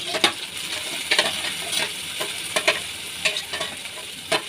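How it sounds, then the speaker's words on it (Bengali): Spice paste mixed with ground spices and salt is poured into frying onions for a rohu fish bhuna. A steady close sizzle runs throughout, with sharp stirring scrapes and clinks every second or so. "এখন আমি এটা পেঁয়াজের মধ্যে ঢেলে দিব।"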